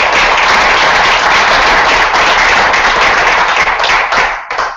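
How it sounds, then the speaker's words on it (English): Audience members at a Toastmasters club meeting break into loud, dense applause close by, a continuous wash of clapping that holds strong for several seconds before thinning out and fading at the end. "So I really want to give a round of applause."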